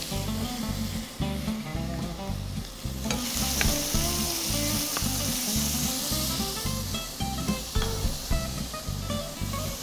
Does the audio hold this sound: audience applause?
no